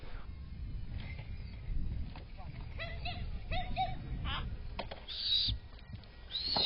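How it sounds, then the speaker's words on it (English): A captive barn owl gives rasping, hissing calls rather than hoots, several bursts over a steady low background, with a louder screech near the end. "Barn owls make a variety of noises other than hoots"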